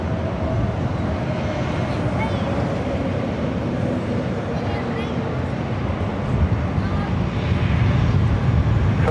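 A Delta Boeing 757, delivered in 1995, takes off from runway 24 left as Flight 2606 bound for Seattle. Its engines make a broad, steady roar that swells toward the end while voices talk over it.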